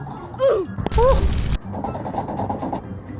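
Gunfire in the mobile battle-royale game PUBG Mobile: a single sharp, loud burst of rapid shots lasting about half a second, with excited voices talking before and after.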